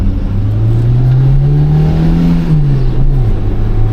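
A Renault Twingo's engine pulls in first gear, a loud close droning note climbing steadily in pitch and then dropping away as revs fall, with no talk over it.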